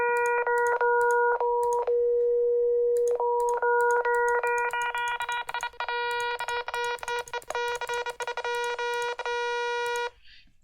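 A synthesized tone built up from stacked sine waves, each added partial making the waveform a closer approximation, heard as a steady electronic beeping note whose timbre grows brighter and buzzier in clear, loud steps, with brief gaps between.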